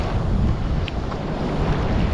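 Small ocean waves washing in, heard through heavy wind buffeting the microphone; a steady broadband roar with no talk, close and loud throughout.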